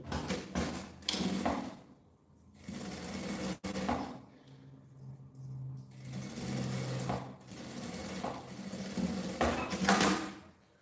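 A sewing machine topstitches a seam on a bag lining, its motor running in steady stitching bursts with short pauses between runs and a brief click in the middle, fairly close and alone.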